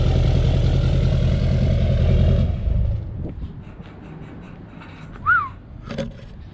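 A tuned GMC Denali pickup's engine rumbles loud and deep for a couple of seconds, then cuts away to quiet outdoor air with a brief bird-like chirp.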